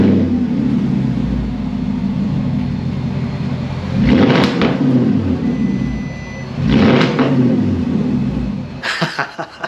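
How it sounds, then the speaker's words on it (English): A Porsche Cayenne with its mufflers removed idles with a loud, deep rumble, then two sharp throttle blips swell and fall back before a few closing pops. "what does it sound like with the mufflers off?"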